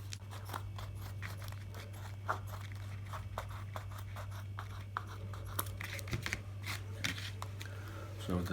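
Scissors trimming oversized wrapping around a leaf layer while assembling a replica funerary head cone, a series of close, crisp snips and rustling paper crinkles at low volume, with a steady low hum underneath.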